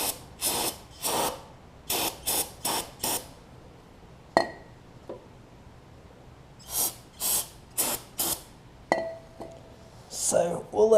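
Brake cleaner sprayed onto parts of a Snapper RER riding mower in a series of short, sharp hissing bursts, several quick blasts in a row, then a pause with a light clink before more bursts.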